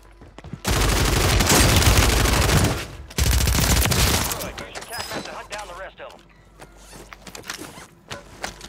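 Heavy rapid gunfire in Call of Duty, loud sustained automatic bursts in the first half, then tapering into scattered shots and game noise, with voices talking in the background.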